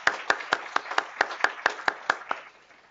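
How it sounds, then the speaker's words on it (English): A closing session audience gives applause for Brendan James and the working party, heard as about a dozen crisp, evenly spaced claps in a steady rhythm that fade at the end, close and alone. "So can we just give some applause to Brendan and all the working party."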